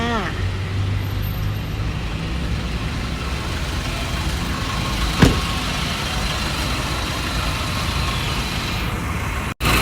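A 2012 Nissan Navara 2.5 Calibre double-cab automatic pickup with its original 2.5 diesel engine, in very good condition, idles steadily and close by, a constant low rumble with one brief knock midway and a click at the end.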